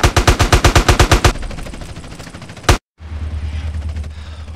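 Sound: gunfire in video game GTA San Andreas

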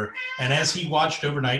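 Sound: cat meowing

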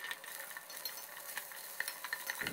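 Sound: herbs (galangal, ginger, coriander root, garlic) stir-fried in oil

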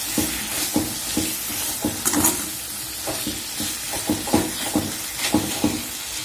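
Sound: stirring fried bitter gourd pieces in a pan

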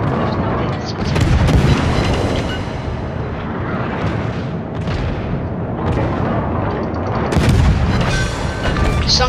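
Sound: explosions and gunfire as an enemy cruiser is sunk, video game

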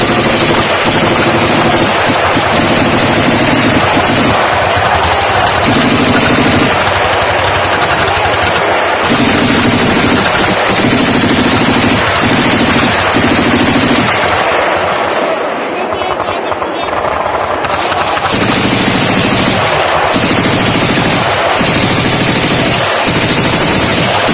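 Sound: machine gun fire at Shahed drones

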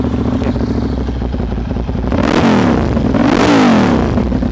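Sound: Monster 795 motorcycle engine revving

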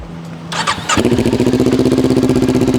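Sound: Kawasaki Ninja 400 (2018) motorcycle engine starting

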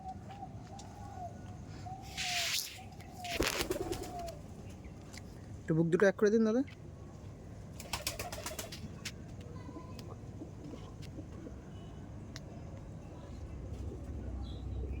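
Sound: pigeons cooing

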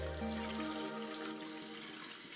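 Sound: rinsing beef under running tap water

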